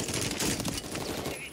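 Rapid automatic gunfire from a video game, dense and continuous bursts that stay loud and close across the whole short stretch with no pauses.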